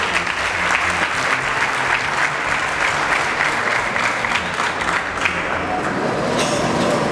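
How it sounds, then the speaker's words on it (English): A lecture audience at UNIMAK claps for the country's anti-corruption progress, loud continuous applause from a large crowd, sustained at full strength throughout and easing slightly near the end. "So we have to clap for ourselves as a country."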